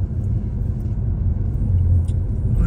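Steady low rumble of cars moving along a street, a continuous near traffic drone with no distinct single pass and no voices.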